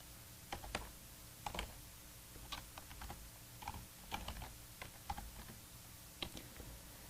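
Close computer keyboard typing of code in Visual Studio, with quick irregular bursts of key clicks and short pauses, with no voices.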